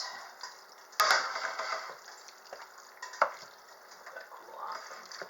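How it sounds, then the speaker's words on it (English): A garlic sauce for chicken Alfredo being stirred in a pan, with soft scraping and gentle sizzling, a sharp clink near the start and another in the middle. "And I'll give that a good mix."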